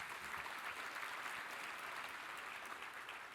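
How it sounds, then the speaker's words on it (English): Sustained applause from a crowd, a dense, even wash of clapping held at steady volume. "Give them a round of applause for their incredible work on that."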